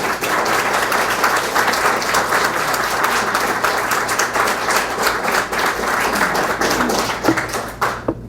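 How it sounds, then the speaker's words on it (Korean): A crowd at a fundraising evening for a Brookhaven mayor claps continuously, a dense, loud wash of applause that holds steady for several seconds and then cuts off. "아주 큰 박수로 맞이해 주시면 감사해요"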